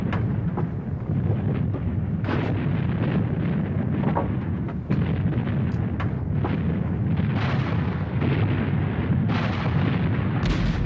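Massive artillery fire from the German army's First World War advance through Belgium rumbles as continuous dense booms and blasts, loud and unbroken throughout.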